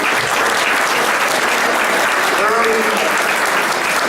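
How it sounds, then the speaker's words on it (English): A room of attendees at a newspaper's 50th anniversary celebration gives a sustained, dense round of applause, steady throughout with a voice briefly calling out partway through. "Can you give Randall a round of applause?"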